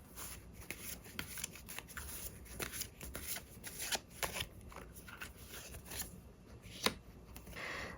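Tarot cards are shuffled close by in a soft, continuous run of papery riffles and flicks, quiet and steady, with one sharper snap near the end and no voices.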